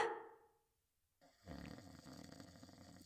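One faint snore rasps at the start, followed by a short silence and then a low, muffled rumbling.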